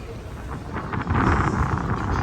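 Wind buffets a microphone by the waterfront in Perth on Australia Day, a low rumbling roar that gusts and swells louder midway through, with no voices heard.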